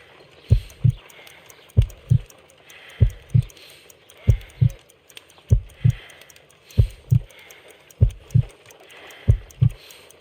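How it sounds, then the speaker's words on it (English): A slow, steady heartbeat in the Sherlock Holmes Crimes and Punishments video game, with about eight deep, muffled lub-dub double thumps repeating evenly over a faint background hum. "I need to concentrate and count the heartbeats."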